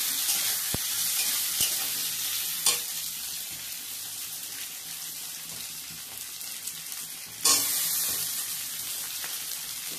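Fish curry with lentil badi cooking in a pan, a low steady simmering sizzle with faint stirring, broken by a couple of brief knocks and one louder clatter near the end.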